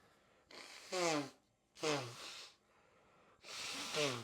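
Three sneezes come in quick succession, each a sharp, close burst that tails off with a falling, voiced sound. Short quiet gaps separate them, and no other sound is heard.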